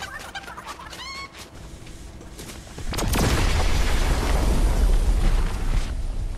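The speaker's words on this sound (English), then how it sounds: "I hate chickens." Chickens clucking in the video game Fortnite Battle Royale, a short run of bird calls that is quickly drowned out by a loud explosive boom and a sustained rumbling roar.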